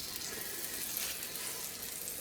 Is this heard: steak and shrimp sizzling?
yes